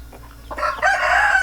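A rooster of a Basilan breed crows once nearby, a rising, drawn-out call after a few short clucking notes, clear over a quiet background.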